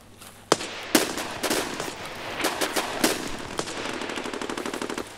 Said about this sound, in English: This is where shots were coming from.